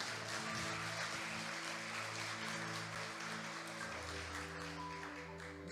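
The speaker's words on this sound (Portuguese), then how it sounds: "Você pode aplaudir a Ele por isso?" Church congregation applauding during a sermon, a sustained wash of many hands clapping that fills the hall at moderate level, steady throughout with a low organ or keyboard chord holding underneath.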